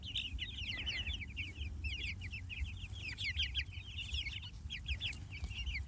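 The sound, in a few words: meat chickens clucking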